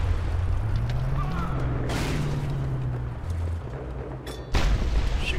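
Gunfire in the Mad Max video game, heavy booming shots bursting over a constant low engine rumble, with one broad blast near the start and a harder hit toward the end, loud and close.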